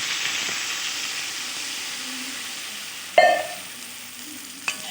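Cauliflower and potato curry sizzles steadily in a hot pan with a loud, even hiss while it is stirred. A sharp scrape and clank of the spoon against the pan stands out midway, and a smaller knock follows near the end.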